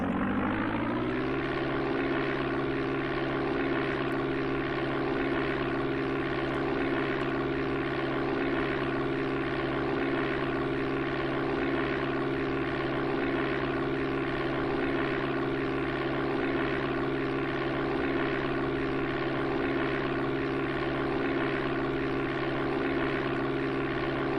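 Propeller airplane engine in Flight Simulator II on the Amiga, a constant, loud droning hum with a steady buzzing pulse that rises slightly at the start and then holds unchanged.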